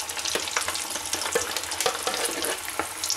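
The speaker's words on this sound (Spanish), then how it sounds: "Qué buena pinta tienen las patatas cuando se están friendo" Potatoes fry in hot oil at 180 degrees, giving a close, continuous sizzling hiss with scattered pops and crackles throughout, and no talk.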